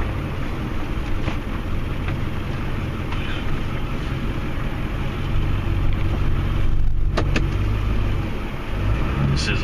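A heavy snow plow truck engine rumbles steadily at close range, idling and revving low as it maneuvers in a tight driveway, with a brief higher-pitched mechanical whine partway through.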